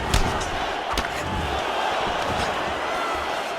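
Crowd noise swells in a UFC video game featherweight title fight between Volkanovski and Holloway, a loud, steady arena roar with a few sharp thuds near the start and around one second.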